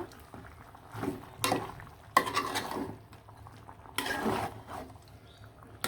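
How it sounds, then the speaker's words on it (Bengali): A spoon scrapes and knocks against a pot while beef is stirred and braised for a potato beef curry, in three or four short, fairly loud bursts over a quiet low kitchen background. "আমি চলে আসলাম আবার লাড়াচাড়া দেওয়ার জন্য মাংসটা"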